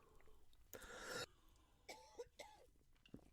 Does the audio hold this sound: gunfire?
no